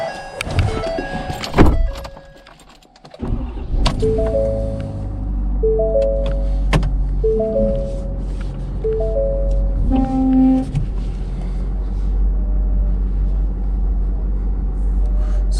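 Pickup truck backing slowly toward a massive truck camper, a steady low engine drone with a repeating beeping tone over it and a few sharp knocks early on.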